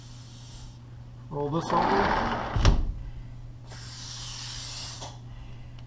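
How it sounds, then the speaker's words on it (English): WD-40 silicone lubricant is sprayed liberally along a sliding door track in two hissing bursts, the second longer. They are close and fairly loud, with a short spoken phrase and a clunk between them. "So now I've got my WD-40 silicone. I'm going to do a liberal coating all over in here."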